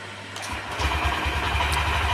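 A Honda SP125 motorcycle engine starts after a brief pause, then settles into a close, steady mid-pitched idle with a rhythmic throb.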